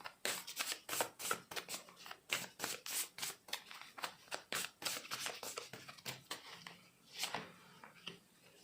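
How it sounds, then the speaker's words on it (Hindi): Oracle tarot cards being shuffled by hand, a close, crisp run of rapid riffling flicks and slaps in uneven bursts, with no talk over it. "अब मैं ऑरिकल में से भी आपके लिए कार्ड्स ले लेती हूँ"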